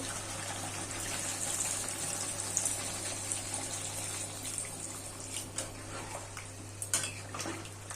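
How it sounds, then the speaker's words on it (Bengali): Water pours into a pot of cooking chicken as a steady splashing, gushing stream with a constant low hum beneath it. It is moderately quiet and has no talk over it. "এখন আমি জল দিয়ে দেবো"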